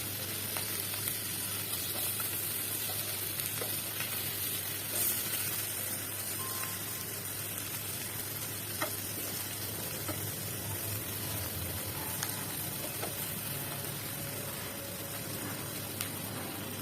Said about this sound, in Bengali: আর এগুলো দিয়ে ভর্তা বানাবো, এই জন্য ভেজে নিচ্ছি।